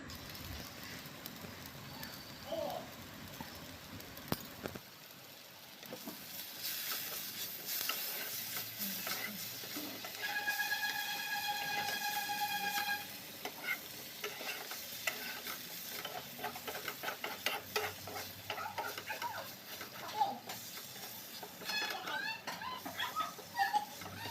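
Ginger garlic paste frying in a pan while cooking paneer: a steady soft sizzle with occasional stirring scrapes, and a brief voice early on.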